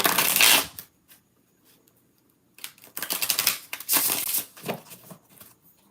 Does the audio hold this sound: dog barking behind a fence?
no